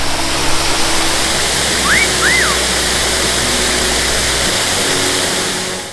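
Cold river water on the Overland Track rushes in a steady, loud broadband wash, with a couple of brief bird chirps rising above it near the middle.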